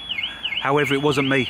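A car alarm sounds in a Starbucks car park: a warbling siren tone sweeps up and down, then switches to a loud pulsing multi-tone wail, with someone talking over it.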